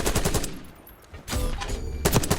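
Three-round burst rifle fire in Black Ops 6 on the Vorkuta map: repeated rapid bursts of shots, loud and close, with a short lull in the middle before more bursts resume.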